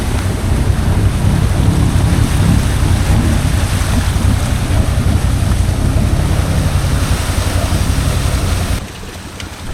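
XMR off-road vehicle plowing through deep water at an outback riding spot, a loud continuous roar of engine and churning splashes that drops off abruptly near the end.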